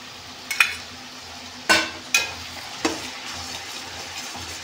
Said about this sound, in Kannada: ಕಡಲೆ ಬೀಜ, ಗೋಡಂಬಿ ಹಾಕೋತಾ ಇದ್ದೀನಿ.